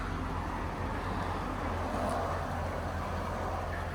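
A 2007 C6 Corvette with a six-speed manual idles at a fuel station, a low, steady engine hum with faint ambient road noise and no voices.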